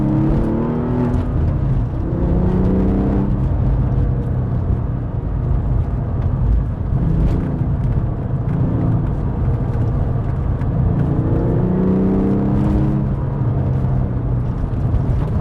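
Porsche 911 996 C4S flat-six with its exhaust flaps open, a loud, continuous close-up drone that swells in repeated revving surges as it pulls through the gears, with no talking over it.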